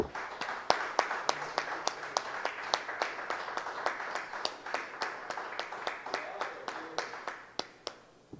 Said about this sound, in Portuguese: E um aplauso ao Senhor.